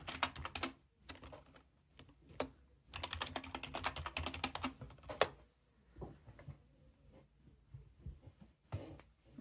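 Keys clatter on a computer keyboard while a password is typed at a login screen, with quick bursts of close, crisp clicks separated by short pauses, ending in a few isolated keystrokes.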